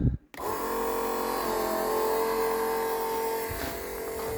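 A Lovol P4110 tractor engine catches after a brief crank, then settles into a steady, loud running drone with a slight dip near the end.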